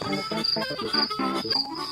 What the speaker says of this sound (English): And then it ends like this. It ends with crickets.